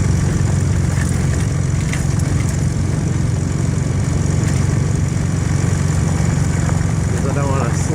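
A Honda CM400T motorcycle rides slowly over gravel with a steady, low engine drone at low revs. The sound stays constant and close throughout, with no change in pace.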